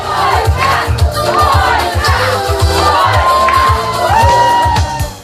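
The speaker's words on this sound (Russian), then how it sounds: "все кричат заветную фразу «Горько», да?" Wedding guests shout "Gorko" together and cheer in a loud crowd. Their rhythmic chanting repeats several times in quick succession at close range.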